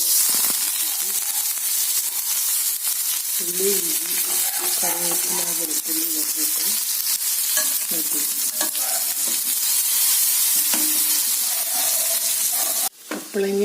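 Papaya curry paste fries in hot oil with a constant loud sizzle and hiss while a spoon stirs and scrapes the pan in uneven strokes, with a clatter near the end.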